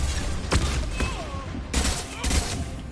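In Mass Effect 2, a flashbang grenade goes off amid combat, with sharp bursts of blasts and gunfire-like cracks recurring in clusters over a few seconds.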